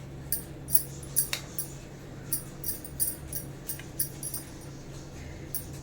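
A pan of Oreo cake batter tapped repeatedly on a surface to release air bubbles, producing a series of light, irregular clinks and taps, fairly close and quiet over a low background hum.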